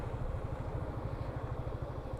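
A motorcycle engine runs steadily at idle or low speed after sitting unused for several days, a continuous low rumble with a pulsing beat, close and moderately loud, with no speech.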